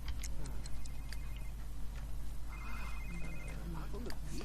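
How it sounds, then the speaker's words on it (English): A telephone rings inside a video game, a repeated electronic trill over steady game music and a ticking clock-like rhythm, moderately quiet throughout. "where's that phone call coming from?"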